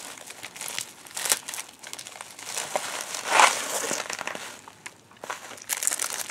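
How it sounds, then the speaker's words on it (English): Bubble wrap around a mailed fountain pen being slowly ripped and peeled open, close and fairly quiet, with irregular crinkling and tearing and one louder crackling burst in the middle. "as I slowly rip the bubble wrap up"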